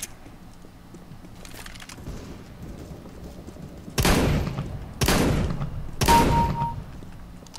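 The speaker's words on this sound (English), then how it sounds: "Shotgun time." Three heavy, booming shotgun blasts ring out in CS:GO, spaced about a second apart after a quieter stretch, each a sharp broadband crack with a short decaying tail.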